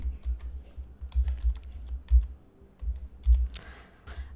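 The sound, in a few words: typing text on a computer keyboard in Canva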